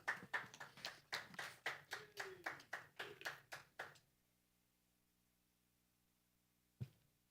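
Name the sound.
a few people clapping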